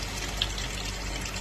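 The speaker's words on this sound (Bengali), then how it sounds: "এবার একটু জল দেবো।" Water is poured into a pan of fish roe curry with potatoes, a short, steady close pour with a soft splashing hiss and no talking.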